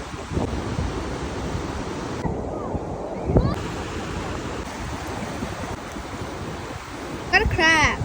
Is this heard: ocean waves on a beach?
yes